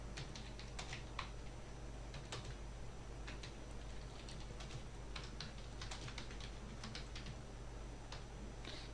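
Comment text is typed on a computer keyboard in quick, irregular bursts of soft clicking keystrokes, close and quiet, with no voices.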